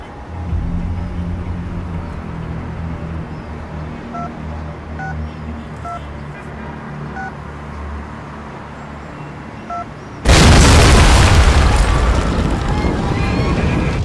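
A sudden loud explosion bursts in after a stretch of steady rumbling background with faint beeping tones, its roar lingering for several seconds.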